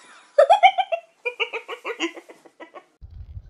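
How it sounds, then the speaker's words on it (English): Chickens clucking close by outdoors at a wild campsite: a burst of loud, rapid clucks and squawks that taper off, followed by a low rumble. "Look at all those chickens."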